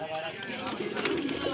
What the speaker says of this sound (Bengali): দেখো খুব সুন্দর কোয়ালিটি আছে পায়রাগুলো, সব রেডি পেয়ার আছে